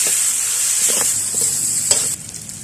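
Red chili and spices stir-fried in a hot pan, a steady bright sizzle with a few scraping stirs of the spatula, close and loud, fading slightly at the end.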